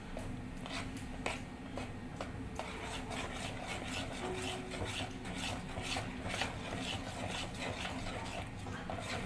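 Chopped red onions, garlic, ginger and red chilies for a mutton curry being mixed together, a steady scraping, rubbing clatter with rhythmic strokes close by, no talk.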